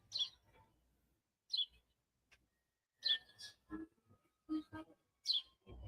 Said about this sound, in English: I hear a bird. Yeah, I have my windows open for circulation.